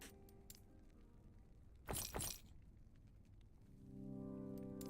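A shatter effect from the video game Last Epoch bursts as a short, bright double crack of breaking glass in the middle, standing alone over quiet game ambience that swells into a low hum afterward.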